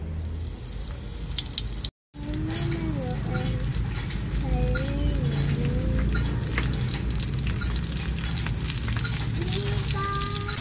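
Chicken tocino fries in a pan with a steady, close sizzle and crackle throughout, briefly cut off near the start, while voices talk over it.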